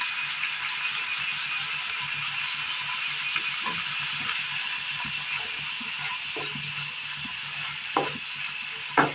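Steady sizzling and bubbling of a breakfast curry with tomato sauce simmering in a pan, with a few soft clinks and stirring sounds, no voices.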